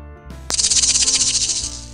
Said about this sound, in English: There are tiny metal cymbals around the edge of a tambourine.